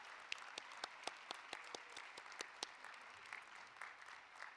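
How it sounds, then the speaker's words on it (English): Applause for educators at a university commencement ceremony in a field house, a distant, moderately faint patter of many hands clapping steadily throughout, no voices. "You deserve a big round of applause for your excellent work."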